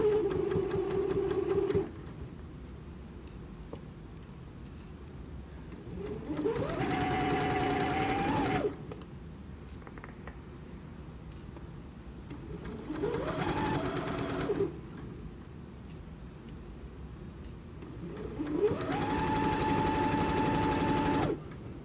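A sewing machine stitches patchwork pillow fabric in three separate bursts, each rising in pitch as it speeds up and then running steadily. Quieter gaps fall between the bursts, and no voices are heard.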